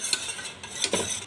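A spoon stirs a thick, sweet, creamy mixture in a pan, giving a few soft close scrapes and a faint sizzle over a brief moment.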